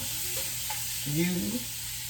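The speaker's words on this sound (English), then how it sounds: "I get my eye and I rotate the butter all around for the eggs" Butter sizzles in a frying pan being readied for eggs, a steady close crackle, with a brief stir or scrape and faint voice-like tones partway through.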